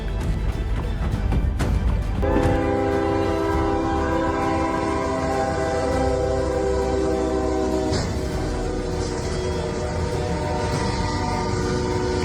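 A train rumbles past steadily while its horn blares in a long sustained blast, then cuts off as the rolling rail noise continues; the train smashed through a city bus.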